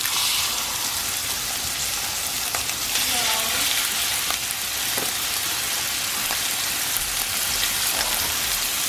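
Steak sears in a hot pan, a loud, dense, continuous sizzle with crackling pops that stays even throughout with no talking.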